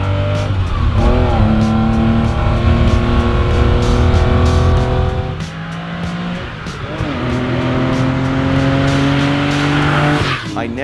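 A 1968 Porsche 911L engine roars loudly inside the cabin of the street-legal car, revving hard through gear changes with a brief dip midway before climbing again, the sound close, harsh and continuous.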